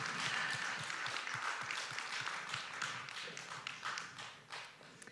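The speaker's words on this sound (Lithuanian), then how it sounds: "Žinoma, plojimai." Audience applause at a dance competition evening, a dense patter of many hands clapping that gradually thins and fades toward the end, slightly distant.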